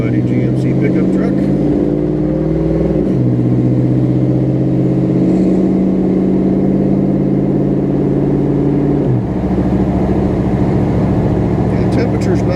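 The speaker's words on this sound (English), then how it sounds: "Square body GMC pickup truck." A square-body GMC pickup truck engine idles loudly and close, rising in a few stepped revs and then dropping back to a lower idle, with some talk in the background.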